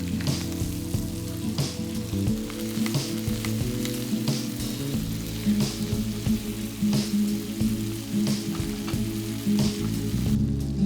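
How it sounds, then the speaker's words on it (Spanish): Chicken pieces brown in butter in a pot, giving a dense, continuous sizzle with scattered pops and spatters throughout, close and loud with no voices. "Ahora incorporamos las presas de pollo a la olla. Las doramos durante unos 5 minutos por cada lado hasta que estén bien doradas."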